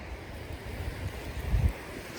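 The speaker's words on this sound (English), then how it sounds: "That wind is helping." Gusty wind buffets the microphone outdoors on a winter backpacking trip near Mount Cammerer and Cosby Knob shelter as a campfire catches; a low, steady rumble swells briefly near the end, with no talking.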